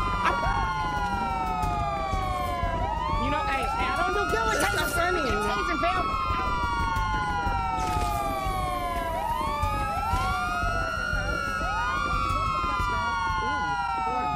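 Several police sirens wail together continuously, overlapping rising and falling tones that repeat in cycles, loud and close, with a faint engine rumble beneath.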